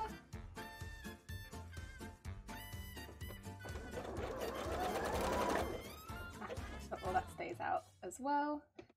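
A sewing machine stitches a bra in uneven bursts of fast mechanical whirring, starting and stopping repeatedly at close range, with a person talking over and between the runs.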